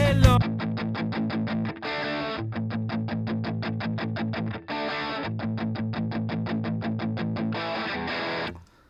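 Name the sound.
electric guitar through graphic EQ pedal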